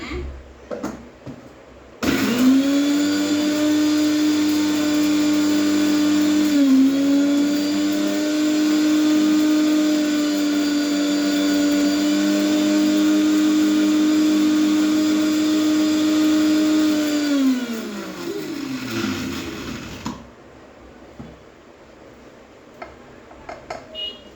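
An electric mixer grinds dried indigo (avuri) leaves into powder. It starts abruptly, roars loud and steady for about fifteen seconds, then winds down and stops, with faint sounds after.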